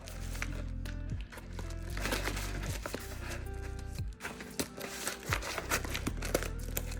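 Scissors cut open a mailing envelope up close, giving crisp paper crinkling and short snipping clicks over a steady tonal background hum.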